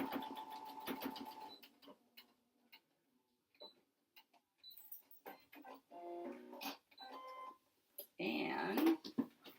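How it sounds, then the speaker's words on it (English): A sewing machine stitches a fabric face mask in short bursts of rapid mechanical stitching, with quiet pauses and a nearby voice speaking in between. "Put my needle back down."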